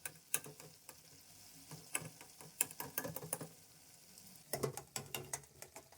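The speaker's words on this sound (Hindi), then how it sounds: "अब हम हल्का सा इनको मैश करेंगे। टमाटर को हम मैश कर लेंगे।" Peeled tomatoes are crushed and mashed in a karahi for Peshawari gosht, heard as quiet irregular taps, squelches and scraping pokes in uneven bursts, close by with no talking.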